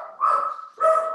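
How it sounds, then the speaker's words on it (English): A guard dog barks twice at close range, two loud separate yelps with a short gap between them, heard alone. "My guard dog is freaking out."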